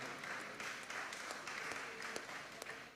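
A church congregation claps through a youth week celebration, a continuous, fairly faint patter of many hands with a few sharper claps standing out.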